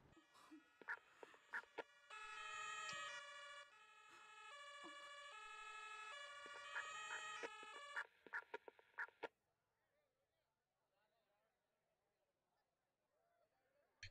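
A police patrol car siren in the emergency-services game Emergency 4 wails in a rising and falling electronic tone for several seconds. Someone talks over it, and a low quiet stretch follows.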